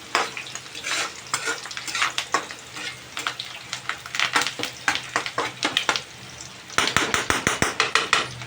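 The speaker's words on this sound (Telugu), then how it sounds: "ఇలా కొంచెం మగ్గేటట్టుగా వేపుకొని ఒక 2 minutes వెయిట్ చేస్తే ఉల్లిపాయలు బ్రౌన్ కలర్లో వచ్చేటట్టుగా లైట్గా." Onions fry in a pan with a constant sizzle, while a spoon stirs and scrapes against the metal in repeated, uneven clinks close by.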